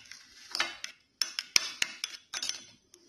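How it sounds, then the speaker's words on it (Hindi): Spoon clinking and scraping against a bowl while stirring coconut oil for homemade lip balm, a series of close, sharp metallic taps at irregular intervals with brief pauses between strokes. "मैं इसमें डाल देती हूँ, इसे अच्छे से मिक्स कर लेती हूँ"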